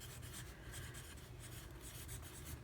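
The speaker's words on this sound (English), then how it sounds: "let me just go ahead and write in" A pen scratches steadily across the page of a paper planner, soft and close, in short continuous strokes with no talking.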